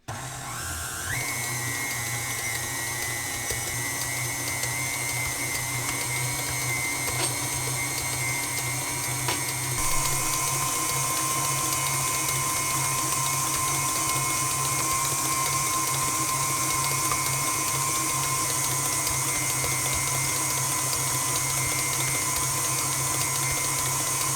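A stand mixer running at speed setting 4 while kneading sticky, high-hydration ciabatta dough, giving a steady, loud motor whine with a constant hum throughout, alone with no talking.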